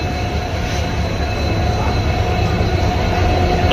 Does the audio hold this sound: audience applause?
no